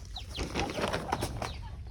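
A desi hen and her chick cluck and cheep close by in a farmyard, a continuous busy run of short clucks and thin peeping calls with no talk.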